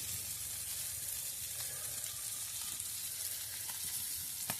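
Fish frying in shallow hot oil in a pan, a continuous close hiss and crackle of sizzling with a few brief louder pops, no talking.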